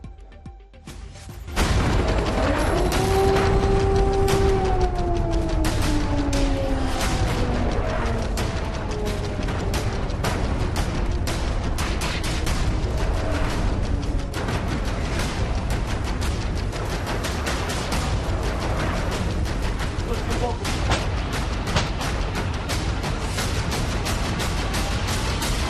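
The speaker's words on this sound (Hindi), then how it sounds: "वो धमाके जिन्होंने यूक्रेन को दहला दिया है" Heavy, continuous missile explosions and rumbling booms at an airport in Ukraine fill the scene after a brief quiet start, with a descending whistle-like tone above, loud and sustained.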